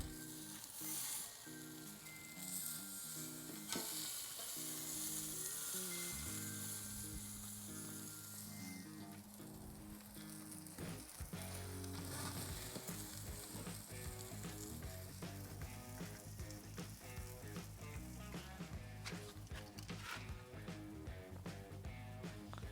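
Steady sizzling hiss from a Wagyu tomahawk ribeye seared over open flame, continuous and fairly close, with faint clicks and scraping mixed in and no talking.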